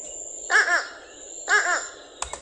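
Two nasal, double-noted fish crow caws sound close by, about a second apart, followed by a brief click, against a steady faint high hum.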